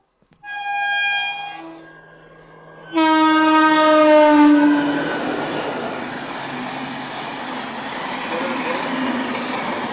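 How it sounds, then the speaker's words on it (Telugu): A train horn blasts twice, a short blast then a longer one, as the train roars past nearby, its rumble continuing afterward. "ట్రైన్ వస్తుంది"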